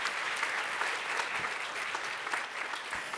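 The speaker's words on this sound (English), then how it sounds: "let's give a big round of applause for our panelists" Audience applause for panelists at the AMP Conf '19 tech conference, a dense burst of steady clapping from a crowd indoors, close and continuous for a few seconds.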